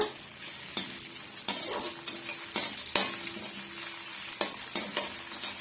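Potato and onion sautéing in a pan for a wedding-style potato stir-fry, a close sizzle punctuated by repeated sharp scrapes and clinks of a metal spoon stirring, no voices.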